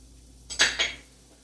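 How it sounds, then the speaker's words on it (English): Peppers and onions are set into a pan for ground beef enchiladas, giving a brief close clatter of two or three quick metallic clinks and knocks, then quiet, with no talking. "Let's place our peppers into our pan."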